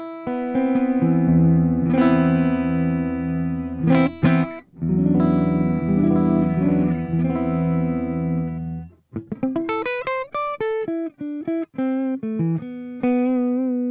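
Electric guitar played through the clean amp of the Neural DSP Archetype: Nolly plugin, sustained chords ringing out, then a run of bright single notes; full and close, no voices.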